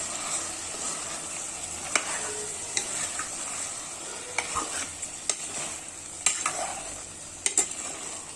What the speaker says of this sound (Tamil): இதை நல்லா மிக்ஸ் பண்ணி ஊற்றிக்கலாம்